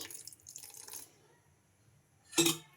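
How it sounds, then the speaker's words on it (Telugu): Water splashes faintly into a bowl of vermicelli batter at the start, followed by a quiet pause and then one short, sharper splash. "ఇంకా ఇప్పుడు కొంచెం వాటర్ అయితే వేసుకొని"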